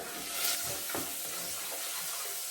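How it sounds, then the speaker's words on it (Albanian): Onion frying in a pan, with a soft continuous sizzle and occasional scraping as a spoon stirs it, close and fairly quiet with no voices. "E skuqim qepën derisa bëhet të ardhë"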